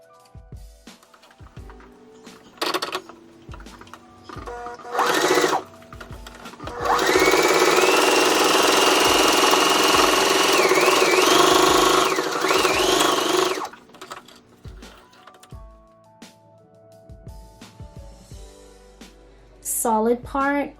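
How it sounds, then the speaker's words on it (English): A sewing machine stitches the front pieces of a fabric face mask in one sustained whirring run lasting several seconds, bracketed by short bursts, clicks and a woman's speech before and after. "let's just go ahead and start stitching"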